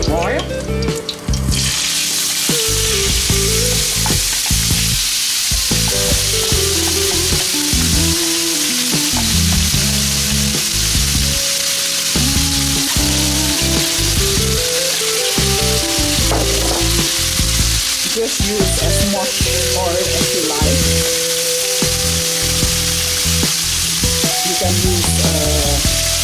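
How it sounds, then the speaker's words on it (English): Ground meat fries in oil in a pan for a coquillettes pasta meal, giving a loud, steady, close sizzle with occasional stirring scrapes throughout and no talking. "I will fry the ground meat in some oil."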